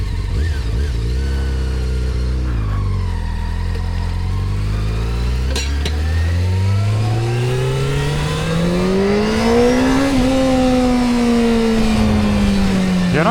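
A Honda CBR600F F4i motorcycle engine revs in first gear, its pitch rising and falling through sweeping loud runs up and down, with riders talking over it.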